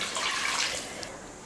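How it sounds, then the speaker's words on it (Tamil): Water poured into a simmering Tamil-style fried fish curry (meen kulambu) gives a steady, close splashing wash for about a second, then eases into a softer trickle. "குழம்புல தண்ணி சேர்த்துக்கலாம்."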